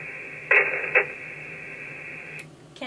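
Marine VHF radio traffic on a cruisers' net in the San Blas Islands: short squelch bursts and a faint, crackly transmission over a steady hiss, with clicks as keys open and close.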